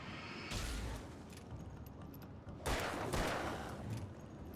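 Gunfire in the Alan Wake video game, two loud bursts of shots with a quieter stretch between them, close and harsh, with no talk over them.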